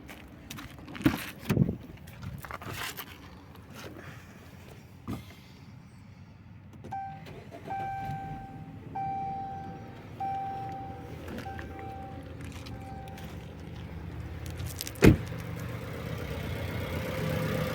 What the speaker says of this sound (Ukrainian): ми запускаємо двигун та перевіряємо, чи є якісь в нас посторонні шуми при його роботі